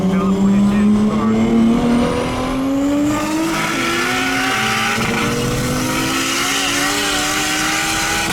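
From inside, a Nissan R35 GTR making 800whp pulls hard on a track, its engine note climbing steadily through the gears with road and tire noise, loud and close, as voices speak over it.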